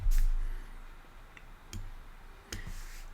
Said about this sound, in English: keep clicking on the wrong file here